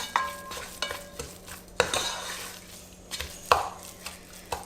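Flour being mixed into a spiced tuna and egg pasty filling in a pan, heard as intermittent scraping and clinking stirs with soft sizzling between strokes.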